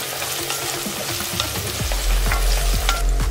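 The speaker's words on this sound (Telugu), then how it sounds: "ఈ టొమాటోస్ స్మాష్ అయ్యేంత వరకు ఫ్రై చేసుకోవాలి." Tomatoes with slit green chillies frying in a pan for a masala vada pulusu, a steady close sizzle with bubbling and occasional stirring scrapes, growing a little louder toward the end.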